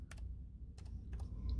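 A few quick keystrokes clack on a computer keyboard in small clusters while setting up a Linksys AC1000 E5350 router, close and fairly quiet, with a low hum beneath.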